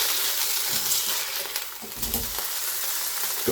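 Doner kebab burger meat sizzles loudly in a hot pan, a dense continuous crackle close at hand, broken by a few light clinks of a utensil against the pan.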